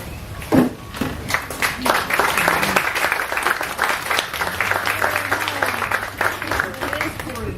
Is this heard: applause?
yes